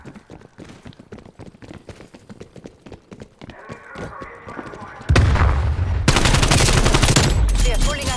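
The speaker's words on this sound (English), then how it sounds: "there are gunshot noises" Gunfire plays from a video, at first quieter rapid shots and clatter, then suddenly loud, dense bursts of repeated shooting fill the last few seconds.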